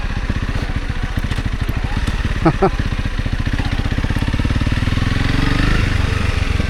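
A 300 Rally dirt bike engine running in sand: a loud, close, steady mechanical thrum with a rapid pulsing beat throughout and a slight rise in pitch near the end.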